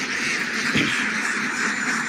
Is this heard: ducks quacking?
yes